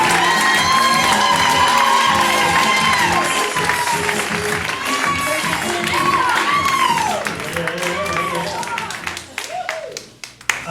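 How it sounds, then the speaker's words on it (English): A crowd claps loudly and cheers, with whoops and excited shouts over the applause before it thins out at the end. "Let's have a huge round of applause for John Hruby."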